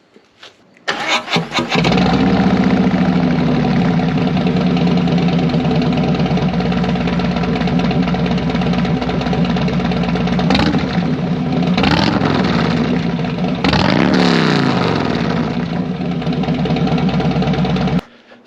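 Harley-Davidson bagger V-twin with cheap aftermarket mufflers starting, then idling with a loud, lumpy, uneven rumble, broken by several sharp throttle blips that rise and fall back to idle before it shuts off.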